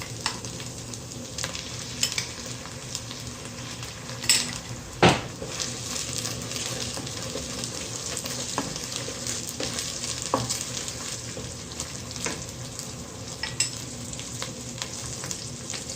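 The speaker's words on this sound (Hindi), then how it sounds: "अब डालेंगे लहसुन अदरक का पेस्ट" Garlic-ginger paste frying with browned onions in a pot for Sindhi biryani, a constant loud crackling sizzle with scattered stirring scrapes and one sharp clatter of the pan, no voices.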